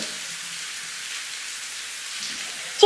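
Soft, steady patter of cartoon rain falling on a surface, a quiet continuous hiss with no voices.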